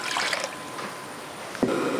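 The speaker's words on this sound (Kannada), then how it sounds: "ಹಾಗಾಗಿ ನಾನಿಲ್ಲಿ 5 ಗ್ಲಾಸಿನಷ್ಟು ನೀರನ್ನು ಹಾಕಿಕೊಳ್ತೇನೆ." About five glasses of water go into a cooking pot for boiling rice, a faint, short trickle with a brief splash near the end, heard alone.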